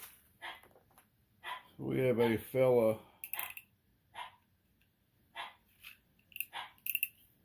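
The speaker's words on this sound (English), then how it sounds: "They're probably going to be barking." Dogs shut in a nearby room bark in a short muffled burst of two loud woofs, while someone speaks quietly over faint clicks.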